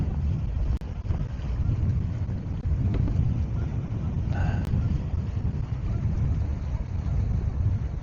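Gusty wind buffets the microphone aboard a Catalina 22 sailboat beating upwind in the evening. A constant, loud low roar swells and dips with the gusts, with water noise beneath.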